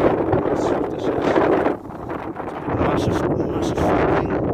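Strong wind buffets the microphone outdoors while metal detecting, a loud, continuous low roar that dips briefly and then surges again.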